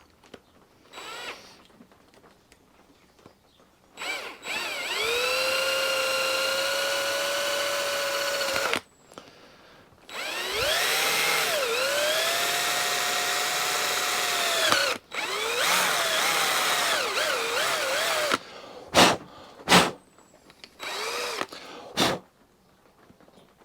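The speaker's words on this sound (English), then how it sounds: "I can now drill a hole" A power drill bores a hole through the side of a lawn mower's recoil starter housing. It gives loud whining bursts that rev up, hold, and stop several times, with brief pauses and a few short clicks near the end.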